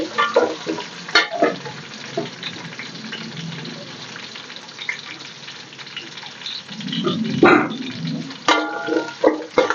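Mint and coriander leaves frying in hot oil for mutton biryani, giving a crackling sizzle with scattered pops and the clatter of stirring, plus a few short bursts of close noise.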